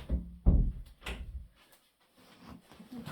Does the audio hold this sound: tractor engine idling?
no